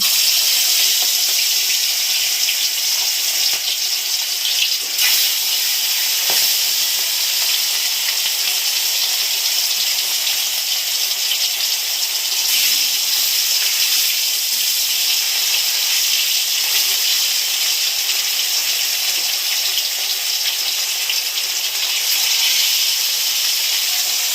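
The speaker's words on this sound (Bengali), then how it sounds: "এবার আমি মাছ দেবো তেলে।" Steady, loud hissing sizzle of rohu fish frying in hot mustard oil in a wok, continuous throughout with faint crackles, close by.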